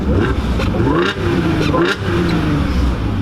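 Loud 2011 Audi S4 turbocharged engine revving, with several sharp throttle blips rising and falling in pitch over a deep, continuous rumble close by.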